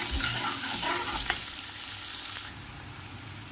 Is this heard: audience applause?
no